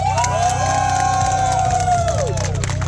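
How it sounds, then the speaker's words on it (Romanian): A crowd at a car tuning show cheers, whistles and claps for a Volkswagen Passat, a loud, close burst of whoops and shouting over a steady low rumble throughout. "Și aplauze pentru Passat."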